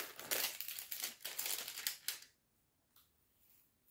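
The plastic packaging of an I Loves makeup palette crinkles and rustles sharply for about two seconds, then settles into a few faint, scattered crackles in a quiet room.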